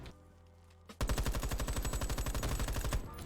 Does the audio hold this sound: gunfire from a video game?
yes